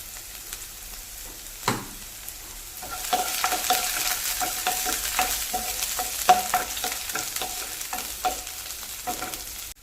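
Chopped shallots sizzle in hot oil on the stove, with a steady crackling fry that grows louder after a short quieter start. Scattered stirring clinks and scrapes of a utensil sound close by, and no one speaks.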